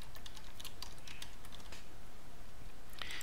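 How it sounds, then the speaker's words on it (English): Close computer keyboard clicks under a steady background hiss as a name is typed, quick irregular taps with a brief burst near the end. "I'm going to type this name"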